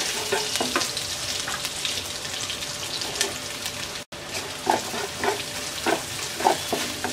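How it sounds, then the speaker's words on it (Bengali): Chopped onion and garlic fry with black cumin seeds in a pan, a continuous close sizzle with intermittent scrapes from a spatula, briefly cut off mid-way. "পেঁয়াজ রসুনটাকে হালকা ব্রাউন কালার করে ভেজে নেব।"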